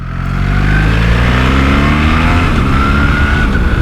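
BMW R1300 GS motorcycle engine pulling hard while riding, a loud, close, rising rev through the gears with a steady buzzing drone and wind rush, no talk.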